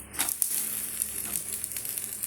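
A millet dosa sizzles on a hot pan with a bright, steady hiss and faint crackle, close and continuous for a couple of seconds, with a small tap near the start.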